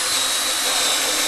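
A steady high-pitched whine of a power drill boring small holes in a plastic barrel runs continuously at close range, with no pauses or voices.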